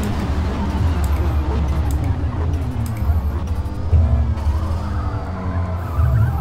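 Car braking hard with tyres skidding in Forza Motorsport 2023, a steady engine drone with scrubbing tyre noise running throughout, joined by a voice talking over it.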